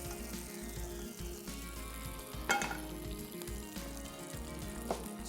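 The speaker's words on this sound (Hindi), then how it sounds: "और फाइनली तड़का गया दाल के ऊपर।" Hot tempering oil poured over cooked lentils sizzles steadily, a continuous crackling hiss with a couple of brief louder spits, close by.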